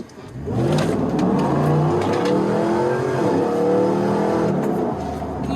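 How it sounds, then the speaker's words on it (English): A forced-induction 416 kW Y62 Nissan Patrol SUV engine revs hard and holds a loud, raspy exhaust roar, climbing in pitch under full throttle before easing slightly at the end. "the exhaust is going to get a whole lot louder. Just going to nail it"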